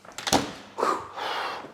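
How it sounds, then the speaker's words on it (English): An oven door being shut while Yorkshire pudding batter cooks around sausages: a few light clicks and rattles, then a soft muffled thump with a brief rushing sweep, heard fairly close and faint with no speech. "Shut the door."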